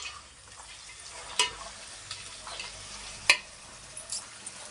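Capsicum and split field beans fry in a pan at low level, a soft steady sizzle broken by two sharp spatula clinks against the pan and a few lighter taps.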